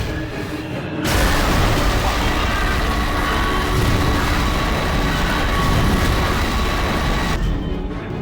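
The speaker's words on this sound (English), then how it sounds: "This has to be probably my favorite sound design for any laser cannon in any game" The sunbeam laser cannon in the video game Prey (2006) fires a sustained, roaring energy beam for several seconds, a dense broadband blast with a steady hum, starting abruptly and cutting off sharply.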